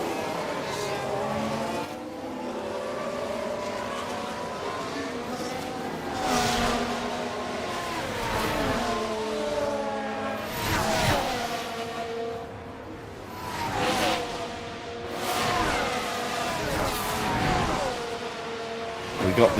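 Formula 1 race cars from a Cadillac-team career race at Belgium in F1 Manager 24, engine drones rising and falling as cars pass and jostle, with a race commentator talking over the racing throughout.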